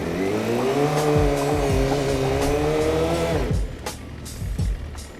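A motorcycle doing a rolling burnout: a loud, close engine roar holds steady with squealing tire screech laid over it, then drops off sharply, leaving faint rumble and brief squeaks.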